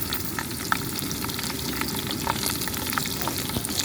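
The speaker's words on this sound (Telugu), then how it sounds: "ఇది కొంచెం ఆయిల్లో ఫ్రై అవ్వాలండి." Bachhali greens sizzle and crackle steadily in hot oil for a kanda bachhali curry, a dense close frying hiss with occasional stirring clicks and no talk.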